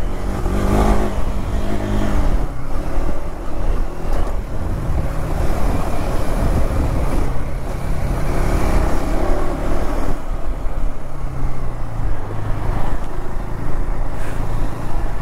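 KTM Adventure 390 motorcycle ridden in off-road mode with a quick throttle response, its engine droning and revving steadily throughout with road and wind noise, no talk.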